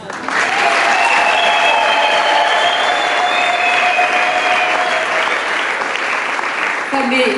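A large crowd applauds loudly and continuously, sustained clapping filling the space with some voices mixed in beneath.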